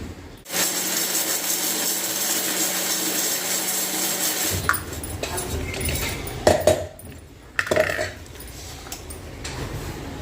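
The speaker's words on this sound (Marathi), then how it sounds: "मिक्सरला ती ना मस्त बारीक करून घ्यायची" A mixer grinder grinding dry flatbread into fine crumbs roars loudly for a few seconds, then stops and starts in shorter bursts with rattling and clattering.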